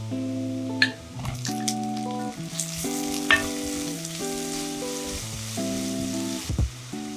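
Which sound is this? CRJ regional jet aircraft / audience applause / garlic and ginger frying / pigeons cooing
garlic and ginger frying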